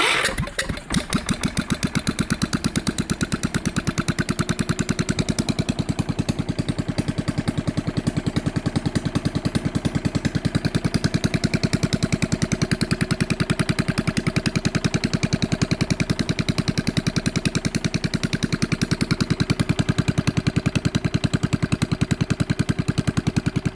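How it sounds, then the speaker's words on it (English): A Kohler K301 stationary engine fitted with a race muffler starts and then runs steadily for a long stretch, its rapid even firing pulses loud and close, with no talk over it. "So now we give her another little shot here just for the hell of it."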